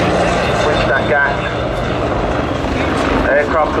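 A Royal Navy Westland Wasp helicopter flies at an air show, its engine and rotor drone steady and fairly loud while a commentator talks over it.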